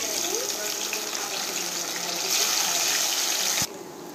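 Remaining sliced onions dropped into hot oil for crispy piyaju fritters, giving a steady, bright hiss of frying that holds loud and even before cutting off abruptly near the end.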